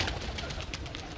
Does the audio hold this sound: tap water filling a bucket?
no